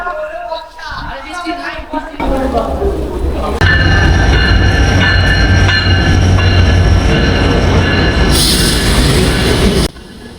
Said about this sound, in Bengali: এটি হচ্ছে রূপসী বাংলা এক্সপ্রেস যেটি ঢাকা থেকে ছেড়ে গন্তব্য বেনাপোল